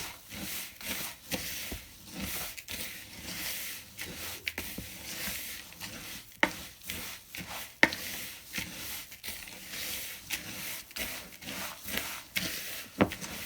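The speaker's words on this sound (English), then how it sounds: "So we're going to mix all of this together, all our nuts, our oatmeal," Nuts, oatmeal, sugar and coconut for granola being mixed together in a bowl, a continuous rhythmic rustling and scraping with repeated soft strokes throughout.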